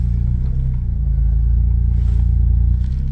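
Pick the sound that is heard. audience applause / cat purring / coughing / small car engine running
small car engine running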